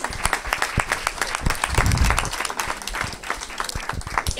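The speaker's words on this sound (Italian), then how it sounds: "Facciamo un applauso." An audience at an awards ceremony applauds a runner-up, a lively mix of distinct nearby claps over a broader crowd, steady and moderately loud for the whole stretch.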